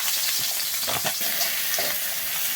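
Chopped onions frying in a hot iron pan with popped mustard seeds, a continuous close sizzle with a few scraping stirs, no voices.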